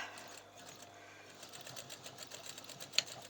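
An overlocker sewing machine stitches through a thick bath towel with a fast, steady whirring hum and soft rhythmic clatter, close up, with one brief sharp click near the end.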